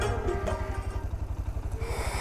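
Motorcycles of touring bikers on the high-altitude Pamir Highway idle and arrive close by, a steady rhythmic low engine thump with some clatter throughout.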